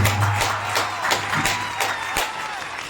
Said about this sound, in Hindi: सभी संतों के सम्मान में एक बार जोरदार तालियां बजा दीजिए।